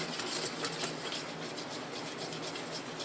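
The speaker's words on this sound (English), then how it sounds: "You gotta keep whisking, or else it will burn a lot" A whisk scrapes steadily around a pan as a roux for country sausage gravy cooks, a soft, continuous rubbing and scratching with faint clinks, quiet and close, with no one talking.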